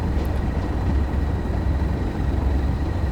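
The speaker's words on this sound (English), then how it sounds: "But this is quite a noisy train." Class 37 diesel locomotive running in Train Sim World 2, a loud, steady low engine drone with a faint high whine, continuous and close throughout, no voices.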